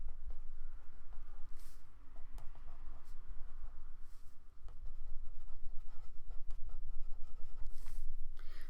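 A pen writes by hand on the paper pages of a planner, giving close, soft scratching strokes in an irregular rhythm over a low room hum, with no talk.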